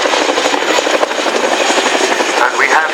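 A Chinook twin-rotor helicopter flying a display at the 2015 Cosford Airshow, a loud, steady throbbing rotor roar close by with dense broadband whine throughout.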